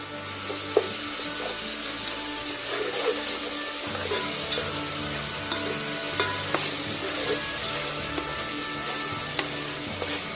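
Ginger garlic paste frying in a pan for coconut milk rice, a loud, continuous close sizzle with scraping stirs and occasional small clicks, no talking.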